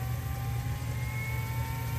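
A Turncrafter Commander 12 VS variable-speed wood lathe motor hums steadily up close, its whine holding a near-constant pitch over two seconds with no talking.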